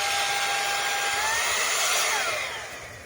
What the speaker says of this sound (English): you switch this over to the blow mode like what we have right now with the one touch button